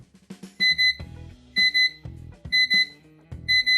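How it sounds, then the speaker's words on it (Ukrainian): A Chinese wooden digital clock's alarm beeps in repeated pairs of high tones, interleaved with short bursts of a simple melody, clear and close. "Ось так звучить будильник."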